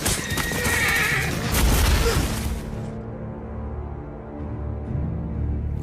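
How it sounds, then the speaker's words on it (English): Cavalry horses charge during a Game of Thrones battle at Winterfell: a loud, dense rush of pounding hooves and battle din, with a sharp whinny, then steadier galloping with further neighs. "he sees that cavalry wall galloping towards him"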